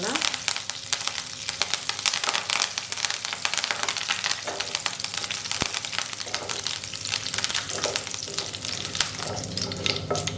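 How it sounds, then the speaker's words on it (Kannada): Curry leaves fry in hot ghee in a pan with a steady, dense sizzle and crackle, occasional stirring scrapes and a sharp tap, close and fairly loud throughout. "ಇವಾಗ ಇದಕ್ಕೇನೆ ಸ್ವಲ್ಪ ಕರಿಬೇವು ಹಾಕ್ಕೊಳ್ತಾ ಇದ್ದೀನಿ. ಇದನ್ನು ಚೂರು ಫ್ರೈ ಮಾಡ್ಕೊಳ್ಳೋಣ"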